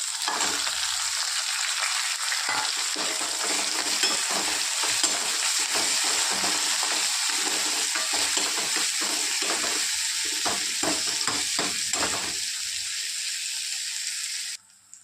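Onion and tomato sizzling in a pan for a spicy potato curry, a steady close frying hiss broken by a run of quick spoon scrapes and taps from stirring, then a sudden drop at the end, no talk.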